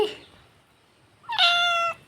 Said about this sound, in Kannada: ಬೆಕ್ಕುಗಳು ಈಗೆಲ್ಲ ಎದ್ದು ಹೊರಗೆ ಬರಲಿಕ್ಕೆ ಶುರು ಮಾಡಿದ್ರು